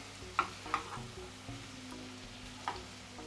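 Corn kernels stirred in a hot frying pan with potatoes and pork belly, a few distinct scraping strokes of the spoon over a low, steady sizzle, close by.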